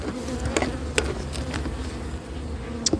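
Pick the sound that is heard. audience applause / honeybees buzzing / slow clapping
honeybees buzzing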